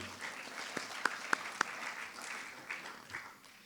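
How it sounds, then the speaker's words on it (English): Scattered clapping from a crowd at a spring varsity sports awards ceremony, a few sharp claps standing out, moderate and fading toward the end. "So let's give them a round of applause and the best of luck today."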